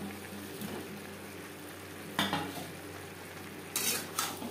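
A pan of silver carp curry with potatoes and cauliflower is stirred and boiled potatoes are tipped in over a soft sizzle. A couple of clear metallic scrapes and clinks stand out, close by, with no talking.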